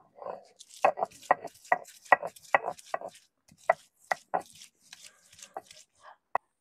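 Green chilli and onion with a little salt being ground by hand on a stone slab, a close, uneven series of sharp knocks and gritty scrapes in quick bursts, separated by brief pauses.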